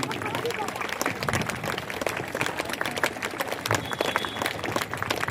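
Audience applause fills a hall at a Hindu Samajotsava gathering in Bangalore, welcoming a guru to the stage: dense, steady clapping from a large crowd throughout, with background murmur.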